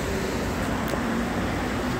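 A car idles with its ventilation blowing, giving a steady, even whoosh and low hum throughout, with no other events.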